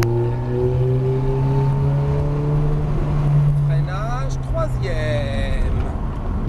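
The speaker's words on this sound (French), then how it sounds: "Et on reprend les gaz." Ferrari F430 on a driving course at Trappes, engine pulling steadily under throttle with a loud rising drone, then easing off as someone speaks over it in French.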